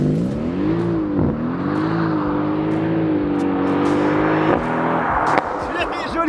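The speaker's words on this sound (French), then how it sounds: "Ça c'est un vrai launch control." A Mercedes-AMG GT makes a launch-control start, its engine revving hard and holding a loud, steady, rising roar before shifting near the end, close and dominant over faint background noise.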